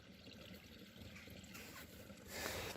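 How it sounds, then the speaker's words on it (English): Water runs in a river in a frozen winter forest, a faint, continuous trickling wash that swells slightly toward the end, heard at a distance with no voices. "You can even hear the water running too."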